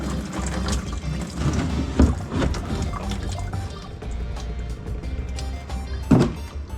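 Coolant pours and trickles from a Subaru WRX with a blown engine, a steady liquid wash with a low rumble beneath, a couple of louder splashes or knocks, and no voices.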